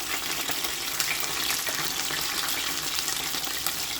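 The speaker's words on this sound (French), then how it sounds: "we will start by frying our onions" Onions frying in a pan for a Congolese bean stew, a steady bright sizzle and crackle running continuously and fairly loud, with no talking.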